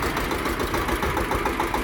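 AGRI GLOBE 180 mini tractor with an 1105 S engine runs steadily, a continuous close, loud mechanical drone with no pauses.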